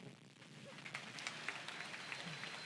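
An audience claps during a Hindi talk, a soft, steady patter of applause heard from some distance, fairly faint throughout.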